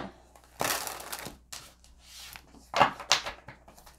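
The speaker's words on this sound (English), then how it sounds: "One more shuffle." A deck of tarot cards is shuffled up close, with several crisp riffling, slapping bursts separated by brief pauses and no talking.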